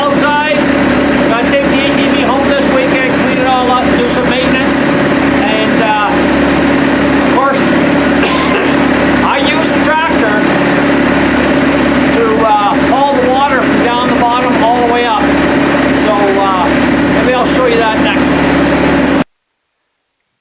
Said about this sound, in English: this little tractor I got here. It's a 30 horsepower diesel Kubota